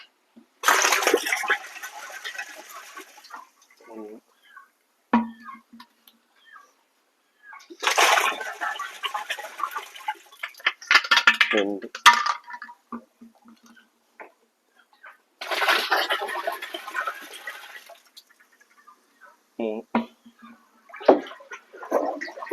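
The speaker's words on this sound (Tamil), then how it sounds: "ஊற்றி நம்ம நல்லா மிக்ஸ் பண்ணிக்கணும்" Liquid EM solution poured and stirred in a container, splashing and gurgling in three separate bursts with quieter sloshing and trickles between, close by.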